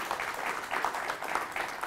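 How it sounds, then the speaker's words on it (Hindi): Steady audience applause at a Hindi-language panel discussion as a social activist guest is welcomed, fairly close and continuous with a dense clapping texture throughout, no voices heard. "जोरदार तालियों के साथ में आप स्वागत कीजिए पल्लवी मिश्रा जी"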